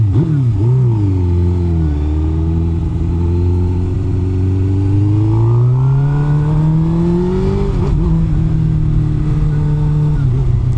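A Suzuki GSX-R 1000 motorcycle engine revs up loudly and steadily, its pitch climbing and falling in long sweeps, close by and continuous with no talking.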